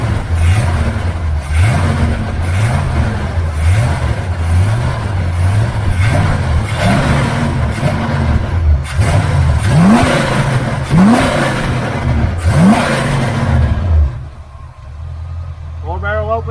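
A 1977 Chevrolet Malibu engine with a knock-off Quadrajet four-barrel carburetor and aluminum intake manifold, idling and repeatedly revving in rising and falling bursts, loud and close, before cutting to quiet with a brief voice at the end.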